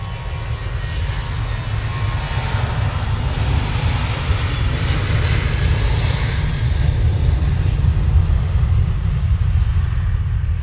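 Ryanair jet taking off at Manchester Airport, a loud, steady engine roar with broadband rumble that holds strong and even throughout, close and alone with no talking.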